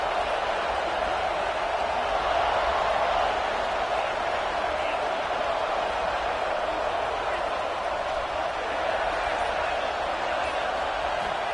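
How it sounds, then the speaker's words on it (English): Broad, steady roar of a large football stadium crowd at an NCAA college game, continuous and loud throughout with no breaks or distinct peaks. "This crowd ready to make its presence known."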